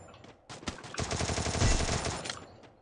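Rapid automatic gunfire in the Free Fire mobile shooter during a jump shot, a dense loud burst lasting about two seconds after a few lead-in shots, up close with no talk over it.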